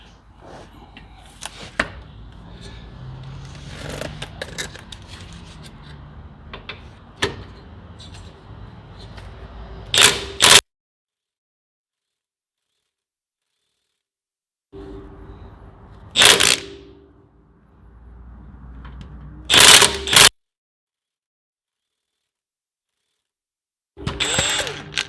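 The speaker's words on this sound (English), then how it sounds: "Put this wrench on there. It's a 19 millimeter." A 19 mm wrench ratchets on a car strut during a KYB strut and Primitive Racing raised King spring install underneath the vehicle, giving scattered mechanical clicks and a few loud sharp bursts between stretches of silence.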